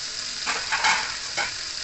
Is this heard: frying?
yes